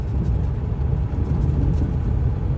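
A semi-truck driving along a rural field road, heard from inside as a continuous loud low engine rumble and road noise that holds steady from start to finish, with no talking.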